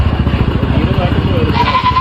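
A goat bleats at a livestock market, one wavering cry near the end rising over steady crowd voices and a low engine rumble.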